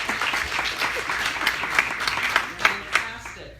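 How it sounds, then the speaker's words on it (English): An audience at an Alzheimer's advocacy summit panel on community engagement gives a steady round of applause, dense clapping that carries throughout and then tapers off, with a few louder individual claps near the end. "Give yourselves a round of applause"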